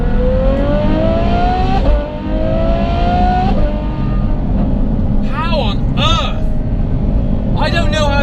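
Novitec N-Largo Ferrari F12 Berlinetta with an aftermarket exhaust, its engine note climbing loud and close in long sustained revs, then sharp repeated blips near the end, heard from inside the cabin.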